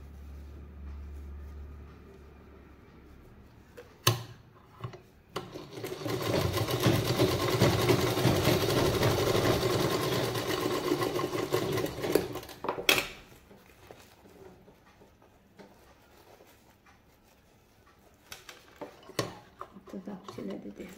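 A sewing machine stitching runs steadily for about seven seconds as a loud mechanical whir, with sharp clacks before and after and someone talking around it.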